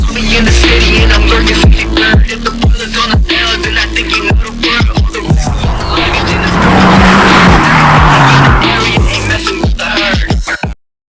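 A 2009 Mazda MX-5 NC2 driving on a sunny afternoon in south-east England: the engine revs up and down loudly through repeated gear changes, with tyre noise and a rushing surge before the sound cuts off.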